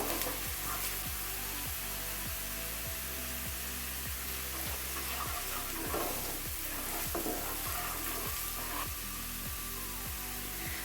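A spice paste fries in a pan for egg korma, a steady loud sizzle under a low hum, with regular scraping stirs recurring throughout.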